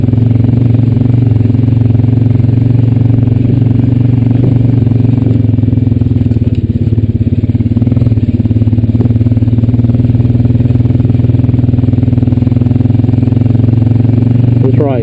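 A Honda Rancher 420AT ATV rolls down a wooded trail, its engine a steady, close, low hum that holds an even pitch throughout, with faint rattling from the machine over rough ground.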